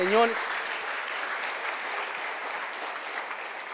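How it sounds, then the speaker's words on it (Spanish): Church congregation applauding during a Spanish-language sermon, a steady wash of clapping from many hands filling a large hall, following a brief vocal exclamation at the start, continuous and moderately loud throughout. "Dele una ofrenda de palmas al Rey de Reyes y señores."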